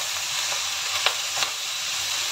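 Cabbage and black fungus fry in a pan for fried noodles, giving a steady, even sizzle with a couple of brief louder spatters or stirs.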